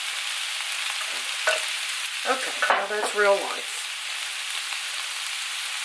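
Chopped cabbage frying with bacon and onions in a small pan, a steady soft sizzle with brief stirring scrapes in the middle, and someone speaking briefly over it.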